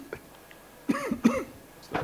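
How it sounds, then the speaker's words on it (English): Two or three harsh coughs from a man, close by and fairly loud, spaced over a couple of seconds in an otherwise quiet room. "And while he's coughing"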